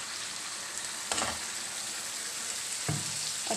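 Ground radish leaves cooking with tomatoes in oil for a chana dal sabzi, giving a steady soft sizzle with two brief louder stirring scrapes, close by and without talk.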